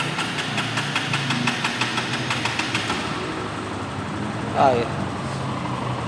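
A new Honda CG Fan 160 flex motorcycle engine is idling with a steady, rapid mechanical thump, close and moderately loud, then it fades out. Someone speaks briefly over the sound.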